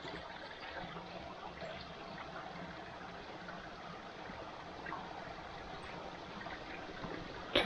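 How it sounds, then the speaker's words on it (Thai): Water of a stream flowing beside a forest trail at Khao Hua Muak, a steady, moderately faint rushing wash that carries on evenly throughout, with a slight bump near the end. "แล้วก็ด้านนี้เป็นลำธารมีลำธารอยู่ข้างๆ"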